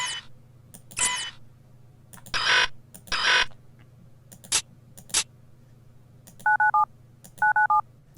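Menu sounds from the video game Battlefield 2: Modern Combat play one after another: sharp clicks and bright noisy bursts, then a message alert of two quick triple-beep tone patterns near the end, all clean and close with no talking.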